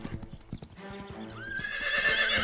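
A cartoon horse whinnies with a rising, drawn-out neigh over a steady clip-clop of hooves, close and clear, with no talking.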